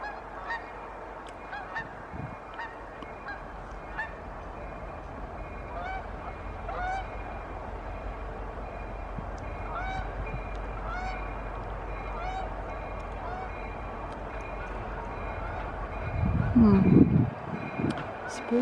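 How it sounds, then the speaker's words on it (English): Geese honk repeatedly at a distance, their calls scattered over steady outdoor background noise by the Spurr River, with a louder rumbling gust near the end. "Oh, there go the geese."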